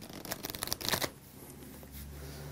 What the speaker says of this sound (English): I'm going to shuffle them into the face up cards.